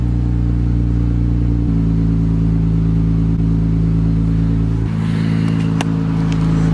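2020 Infiniti QX50 engine droning at close range, a steady loud hum that steps up in pitch as the car pulls away, with some clatter and road noise near the end.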